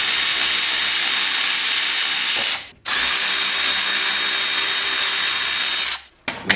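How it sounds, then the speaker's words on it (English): An impact-style power tool zips out the brake caliper guide pins on a 2008-2014 Toyota Highlander in two loud, close bursts, each a few seconds long, separated by a short gap. "We're going to remove the caliper guide pins."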